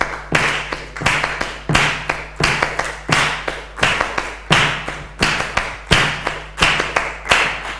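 An audience claps flamenco palmas in a steady rumba rhythm, sharp close claps repeating evenly at a brisk pace, loud and alone with no talk over them.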